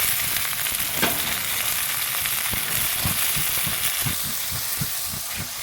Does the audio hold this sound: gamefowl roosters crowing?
no